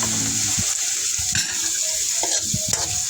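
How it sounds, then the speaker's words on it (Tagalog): Squid sautéing with ginger and garlic in a pan at close range, a steady sizzle with a few scraping stirs and light clinks of a utensil against the pan. "Ginisa ko ang ating pusit na binili sa palengke."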